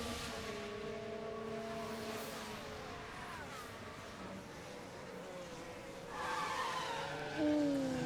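F1 video game race cars at the Brazilian Grand Prix sprint, engines whining and shifting pitch, with a tire squeal from a locked wheel rising near the end above the steady engine drone, no voices.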